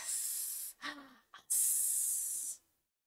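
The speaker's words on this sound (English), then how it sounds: "That noise. Little sizzle noise." A little sizzle sounds in a video game as a steady, close hiss, broken by a short breathy pause and then a louder continuous burst that stops abruptly.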